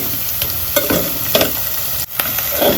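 Squid roast masala is being stirred in a pan, giving a steady close frying sizzle broken by a few scraping strokes of the spoon, with no talking.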